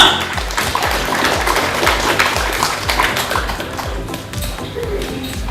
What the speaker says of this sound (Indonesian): Sekali lagi kita tepuk tangan yang meriah untuk Bapak Dewen Todi SHMH.